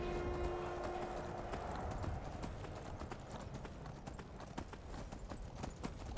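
Horse hooves clip-clopping in the video game Skyrim, a steady rapid rhythm of hoofbeats running continuously at moderate volume, with a brief tonal note early on.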